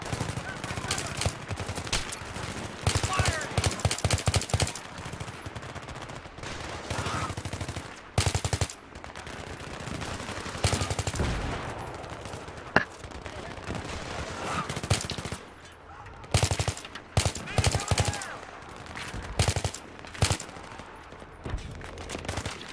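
Sustained automatic gunfire and scattered shots in a Battlefield 3 campaign firefight. Loud bursts come and go over twenty seconds with brief lulls, and soldiers call out over the shooting.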